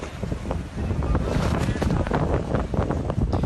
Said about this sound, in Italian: Il vento impetuoso e il moto ondoso scuotono una gondola con 4 passeggeri a bordo